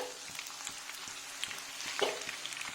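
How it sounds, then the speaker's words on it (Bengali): Thinly sliced onions sizzle and fry in hot ghee in a pan, a steady close crackling hiss with brief spatters and no talking. "ঘিটা গরম হয়ে গেছে ওতে আমি কিছুটা ঝিরিঝিরি করে কাটা পেঁয়াজ দিয়ে দিলাম"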